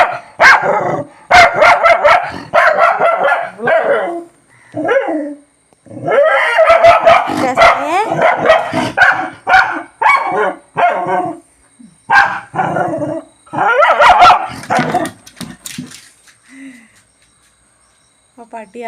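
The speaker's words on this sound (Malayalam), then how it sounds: "ഏതോ ഒരു പട്ടി അപ്പുറത്തെ" A dog barks repeatedly in rapid loud bursts from the neighbouring plot, with short pauses between volleys and a thin chirp of insects underneath.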